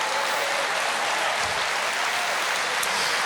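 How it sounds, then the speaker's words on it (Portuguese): A church congregation claps together in a dense, sustained wash of applause that fills the room evenly from start to finish, with no distinct voices. "comece a aplaudir"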